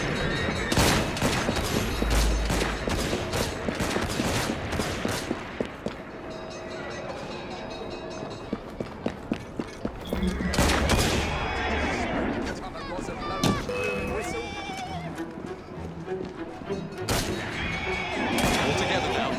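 Pistols crack in a ragged volley of sharp reports amid a busy Victorian street in Assassin's Creed Syndicate, with horses whinnying, carriage rumble and voices around the shots.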